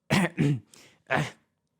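Three harsh, raspy coughs close to the mic, two in quick succession then one more after a short pause, with no talking.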